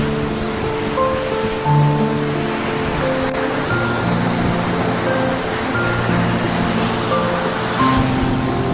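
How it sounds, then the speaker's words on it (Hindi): Hidden waterfall near Muradbagh village in Drass Valley, Ladakh, with close, steady broadband roar of falling water and spray running without a break; no talking. "चलिए दिखा दी झरना के साइड, वाह बहुत अद्भुत बहुत खूबसूरत नज़ारा।"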